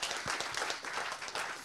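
An audience gives a round of applause at a conference event, a brief, dense burst of many hands clapping at once, moderately distant and fairly soft, with no voices over it.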